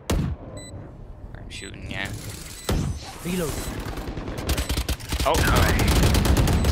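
Bursts of automatic gunfire from a tactical shooter video game, repeated sharp volleys that thicken into sustained fire toward the end, close and loud, with a player's brief voice over the shooting.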